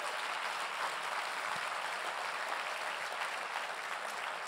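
An audience at an award ceremony applauding, a faint, distant, steady wash of clapping that holds evenly throughout.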